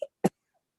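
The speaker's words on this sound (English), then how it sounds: "Somebody needs to mute this coughing" Two sharp coughs at close range during an online community meeting, the first short and the second a stronger burst, then near silence.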